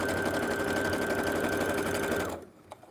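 A sewing machine stitches a scrappy zipper pouch at steady high speed, a close, continuous mechanical whir that stops abruptly near the end, followed by a small click.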